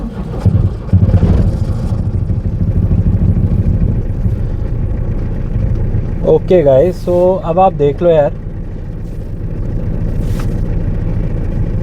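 An old Tata Telcoline 4x4 pickup's diesel engine cranks and catches, then settles into a loud, steady, close idle while someone talks over it.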